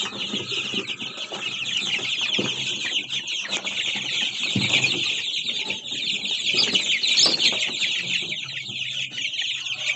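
A crowd of chicks peeps continuously, a dense high-pitched chorus of overlapping cheeps that is loud and close, with occasional soft rustling underneath.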